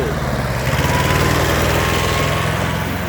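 A small two-cylinder engine on a 12-horsepower four-wheeled vehicle runs steadily at close range, a loud, even putter with a faster chatter that picks up slightly partway through.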